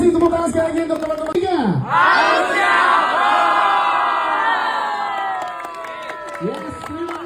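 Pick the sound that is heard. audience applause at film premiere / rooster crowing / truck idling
audience applause at film premiere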